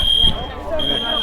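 A school fire alarm sounds as a steady high electronic tone that cuts out midway and resumes, heard alongside room noise and muffled voices nearby.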